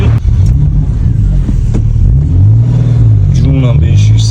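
A six-cylinder Nissan Maxima engine revving loudly up close, a heavy continuous rumble that swells and holds, with a voice briefly audible over it.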